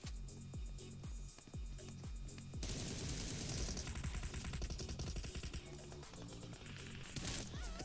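Rapid gunfire from a mobile shooter game played on a Poco X3 Pro phone, with dense repeated shots rattling in quick bursts through the game audio and close, fairly loud throughout.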